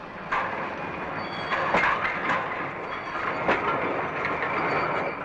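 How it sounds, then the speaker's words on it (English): Railway wagons roll steadily by themselves down a hump yard slope with a continuous rumble, faint clicks and occasional metallic squeals, heard from a moderate distance. "The wagons, pushed over the hump by the loco, ran by themselves down the long slope"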